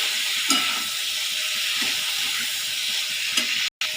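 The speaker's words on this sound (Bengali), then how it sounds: "এইভাবে আমি কিছুক্ষণ কষিয়ে নেবো মশলাটার সাথে।" Cucumber sautés in spiced oil in a pan, a constant close sizzle broken by three soft stirring scrapes and a brief sudden gap near the end.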